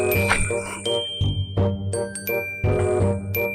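A mobile phone plays a ringtone during a call, a chiming musical jingle of bright bell-like notes repeating in short phrases at moderate loudness with no talk.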